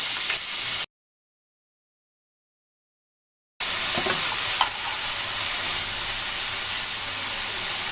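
Shrimp frying in hot oil in a pan, a loud close sizzle that cuts out for a few seconds of silence, then returns as a steady hiss with faint scrapes and spatters.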